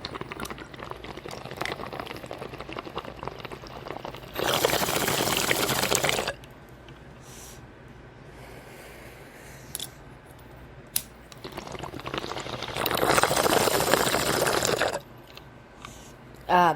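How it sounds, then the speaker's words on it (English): Cannabis bong bubbling in two long broadband bursts of gurgling water, each about two seconds, separated by a quieter stretch of room noise; close and fairly loud, with no talking. "The sound of a bong in the morning."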